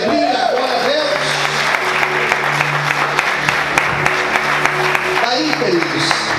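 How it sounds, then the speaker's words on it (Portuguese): Church congregation clapping during a sermon, a steady wash of applause under voices, with a speaker audible at the start and end. "Aplauda Ele com alegria"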